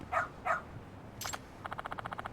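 Dog barking in the video game Lost Judgment: two sharp, loud barks close together, followed by a brief burst and a rapid run of quick, higher yips, with no talk.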